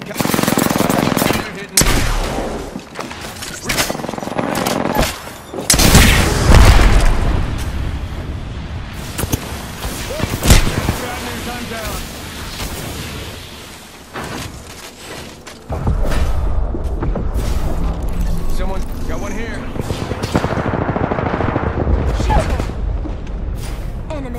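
Video game gunfire in Apex Legends: repeated bursts of automatic fire and sharp shots, loud and close, coming in clusters across the whole stretch with brief lulls, while a player talks over it.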